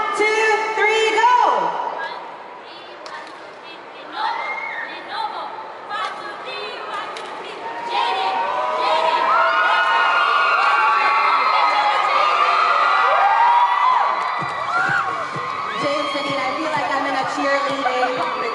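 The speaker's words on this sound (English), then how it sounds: "Are you ready for your cheer?" A crowd of fans at a Lenovo product launch event shouts and cheers in loud bursts, building into sustained excited whooping, while an emcee's voice speaks over the noise.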